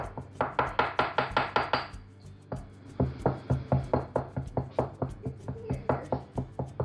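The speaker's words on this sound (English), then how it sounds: "once you have about 1 teaspoon worth of cloves in the mortar pestle, just crunch it up" Rapid, rhythmic pounding of a pestle crushing cloves in a mortar, a steady run of sharp thuds, pausing briefly before resuming at a similar pace.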